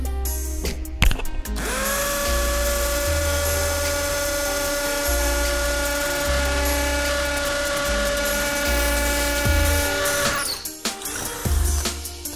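A DeWalt DCD805 cordless drill in impact mode, fitted with a 10 mm bit, bores into hard concrete paving, giving a loud sustained whining grind with a rapid hammering rattle that starts and stops at the edges.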